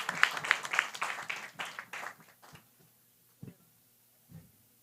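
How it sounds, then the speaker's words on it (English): Brief audience applause for a speaker at a business forum on sustainability, a short burst of clapping that dies away within about two seconds, followed by a few isolated soft thumps in near quiet. "a warm round of applause, please"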